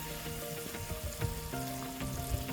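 Smoked butcher's bacon frying on a camp burner outdoors, a close, steady sizzle with scattered pops and light scraping, and a faint tonal hum underneath.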